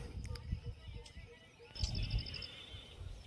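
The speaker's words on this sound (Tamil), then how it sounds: "ஒரே சேம் டைம்ல எத்தனை பறவைங்களுடைய விதவிதமான சத்தம் பாரு" Several birds call at once in the Western Ghats forest, a few brief chirps early on and then a quick, high repeated trill, set against steady ambient background noise.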